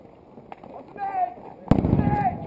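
An airsoft grenade goes off during a game, a single sharp bang close by, surrounded by players shouting to each other.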